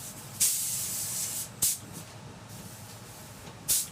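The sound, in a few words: spray gun spraying medium build primer on car tank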